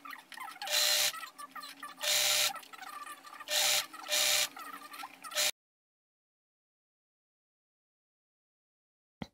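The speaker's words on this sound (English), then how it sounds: "to sew the hem, we're just gonna fold the finished edges twice and sew on top" A sewing machine stitching the twice-folded hem of a dress, running in several loud, rapid mechanical bursts with brief pauses between them, then stopping into silence.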